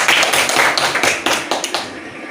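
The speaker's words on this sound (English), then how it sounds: "Let's clap our hands." Students in a classroom teaching demonstration clap in a short burst of several uneven claps, mixed with voices and room noise.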